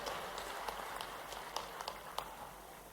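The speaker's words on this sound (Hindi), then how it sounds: "सभी से मेरा आग्रह, जोरदार तालियां बजाकर माननीय मुख्यमंत्री जी का अभिनंदन करें," Faint scattered clapping from an audience welcoming the Chief Minister at a public event, sparse individual claps over a low hum.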